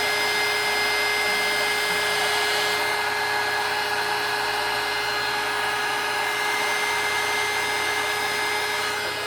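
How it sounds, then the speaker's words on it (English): A heat gun blows steadily while embossing powder is melted on a handmade mixed media card, a continuous loud whirring hiss with a constant hum that runs unbroken and alone for the whole stretch. "with a heat gun"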